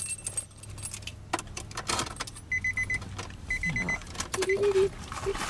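Metal keys jangle in short bursts during a race wheel install on a Nissan 350Z in a garage, rattling close by amid clinks and tool noise with brief speech in the background.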